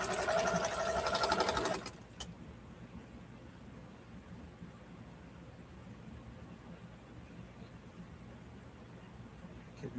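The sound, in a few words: sewing machine sewing a quilt block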